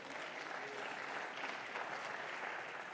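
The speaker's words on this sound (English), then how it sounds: "so big round of applause to Apeldoorn team." Steady audience applause for the visiting Apeldoorn squash team at a Dutch league match, dense continuous clapping filling the hall at an even level throughout.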